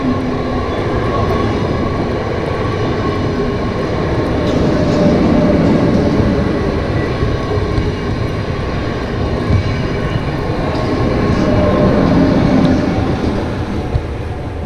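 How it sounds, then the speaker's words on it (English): Train rumbling past outdoors in snowy surroundings, a loud broad roar that swells and recedes over several seconds with steady rolling rail noise and no clear speech. "I think there's a train coming. It definitely is coming, so it's gonna get loud for a second"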